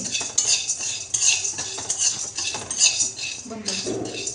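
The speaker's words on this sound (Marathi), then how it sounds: "त्यानंतर आपल्याला हे चण्याची डाळ भाजून घ्यायची आहे. ही लालसर भाजायची आहे सेम." Chana dal being dry-roasted and stirred in a pan, giving a steady scrape and clink of a spoon against metal with light rattling of the lentils, close and continuous with no talk.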